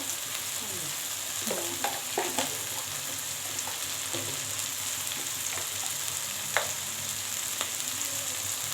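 A spice paste with chili powder, salt and sugar for a young jackfruit curry fries in a wok with a steady sizzle, broken by scattered scraping clinks of stirring.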